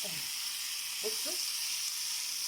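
Quail sizzle in a pan as they are stirred, a steady high hiss of frying with a few faint clinks and brief low voice sounds underneath.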